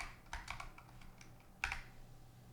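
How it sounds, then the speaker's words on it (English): Quick, light keystrokes tapped out on a computer keyboard while volume is typed into a trading platform search box, a short burst of clicks followed by a sharper final key press, close and alone. "just type in volume right here"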